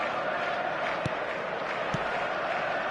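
A stadium crowd in a football video game makes a steady, distant murmur of many voices, broken by a couple of brief sharp knocks.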